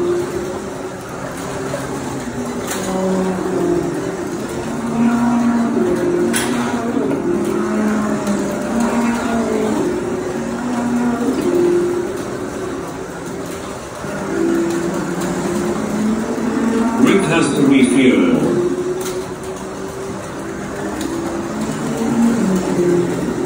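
Carrera Digital 1/24 slot cars racing around a track, a steady whining motor drone that rises and falls as the cars pass, with no talk over it.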